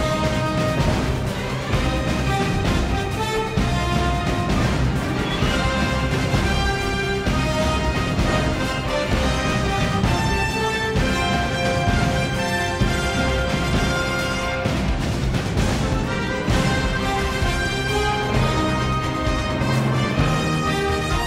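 Epic orchestral film score from Spider-Man: Far From Home, blending the Mysterio and Spider-Man hero themes into one full, dense, loud passage that sustains throughout without any talking.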